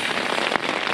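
Steady rain falling outdoors on a wet morning, a dense continuous hiss of drops with one slightly sharper splash midway, fairly loud and with no voices.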